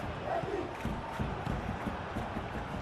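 A distant simulated stadium crowd in the football video game PES 21 roars and cheers steadily during Real Betis vs Atletico Madrid, a broad wash of noise with a few faint shouts rising out of it.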